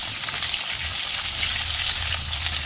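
Cumin, bay leaf, dried chili and cut potatoes frying in hot oil give a steady, close sizzle and crackle that runs unbroken throughout, with no voices.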